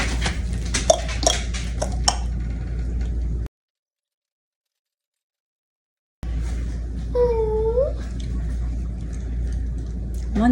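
A frying pan is handled on a home stove to heat oil, with close metallic clinks and clatters of cookware, a silent gap, then faint kitchen movement and a brief squeal.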